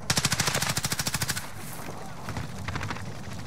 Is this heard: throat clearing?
no